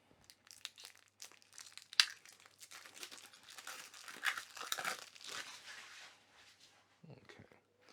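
Crinkling plastic wrap tears and crumples as card packs from the It's a Wonderful World board game are opened, a busy run of close rustling bursts and rips that fades out near the end.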